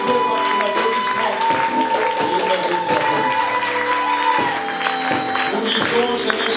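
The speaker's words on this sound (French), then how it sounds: "Applaudissements, élève-le par des applaudissements." A church congregation applauds and cheers during a sermon, a dense, steady roar of clapping and shouts blended with sustained musical tones throughout.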